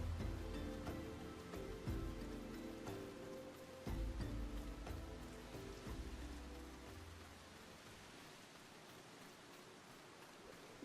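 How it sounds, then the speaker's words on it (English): Heavy rain shower in the video game Final Fantasy XIV, a steady hiss of rainfall pattering on surfaces, with a few low thumps early on before it thins into an even wash of drops, with no voices. "It's a little bit heavy rain to consider a shower."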